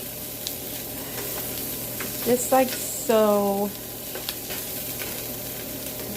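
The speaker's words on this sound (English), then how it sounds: "these we're frying" Food frying in a pan gives a steady, close hiss and crackle that runs the whole time, with someone speaking briefly over it partway through.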